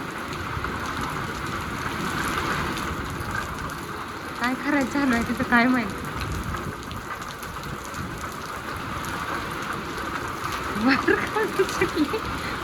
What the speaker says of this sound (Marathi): आमच्याकडे चांगला पाऊस झालाय